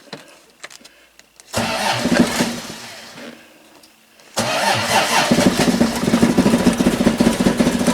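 A Triumph TR250 engine with the choke out and carburettors primed cranks briefly, then catches on a second attempt and settles into a loud, steady, close idle with no talk over it.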